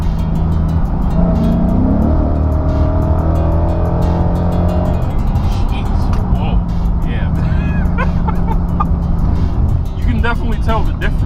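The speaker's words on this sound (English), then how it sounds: "Let's go ahead and test some acceleration out." A car running a Lund tune accelerates hard up an interstate entrance ramp, its engine rising in a loud, steady climb through the gears, with voices talking over the engine noise.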